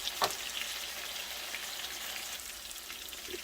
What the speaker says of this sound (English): I'm going to let this keep simmering on for just another couple of minutes.